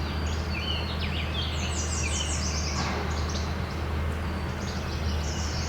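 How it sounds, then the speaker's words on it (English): Yellow warbler singing a few bright, rapid phrases that repeat through steady low background noise, the bird some distance away. "Yellow warbler."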